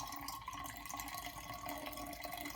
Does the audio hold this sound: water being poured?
yes